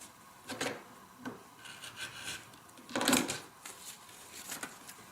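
Trimming paper-pieced quilting fabric with a 1/4 inch ruler and rotary cutter: a few soft, close rasping cuts and rubbing strokes, the longest about midway, with quiet handling between them and no talking.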